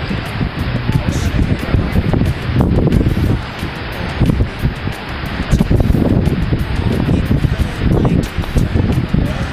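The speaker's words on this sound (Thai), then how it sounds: "ลมมันแรงนะครับข้างบนนะครับลมแรงมากเลย" Strong, gusty wind roars and buffets the microphone in heavy low rumbles throughout at the Phu Ruea mountaintop viewpoint, with a voice partly buried beneath it.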